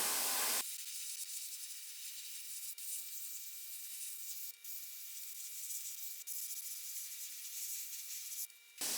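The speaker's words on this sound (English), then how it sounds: "air on, pull right back with the trigger, blast a little bit of paint out" An airbrush sprays paint onto a concrete mould with a steady, close, even hiss that runs almost unbroken for several seconds, dropping out only for a few very short moments.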